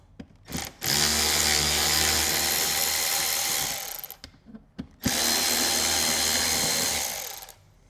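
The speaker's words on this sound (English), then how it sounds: "Now I'm just going to remove these last two bolts." Power drill backing bolts out of a motorcycle hard bag speaker lid, two long loud whirring bursts close by, each a few seconds, separated by a brief pause with small clicks and handling noise.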